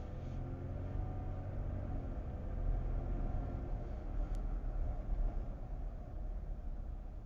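Steady low road rumble and engine drone inside a 2016-2022 third-generation Toyota Tacoma cruising around a neighborhood, captured from the dash; continuous and even, with no talking.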